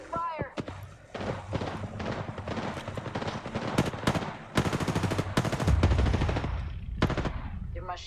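Rapid machine gun bursts in a squad-based shooter game, loud and close, with repeated volleys and heavy impacts layered under game voice lines and radio chatter.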